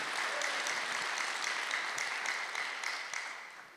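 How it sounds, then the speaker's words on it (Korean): A church congregation applauding during a Sunday worship service, a sustained burst of many hands clapping that fills the room evenly before fading slightly at the end. "박수 한번 주세요."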